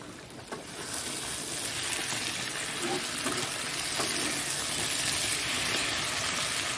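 Water poured into a hot frying pan with fish, a sudden loud hissing rush that settles into a steady bright sizzle, close and continuous.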